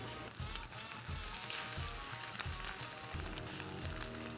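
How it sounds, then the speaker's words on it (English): Bacon sizzles in a pan with a constant crackling hiss and small irregular pops, fairly close and moderately loud, with no talking. "I hope you can hear that sizzling."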